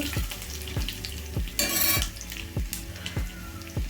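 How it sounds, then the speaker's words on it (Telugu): Crushed garlic and a dried red chili sizzle in hot oil as a tempering for an okra fry. A spoon scrapes the pan in a steady rhythm, with one brief louder hiss midway. "ఎల్లిపాయ ఒకటి ఎండిమిరపకాయ అండి వేగాలండి"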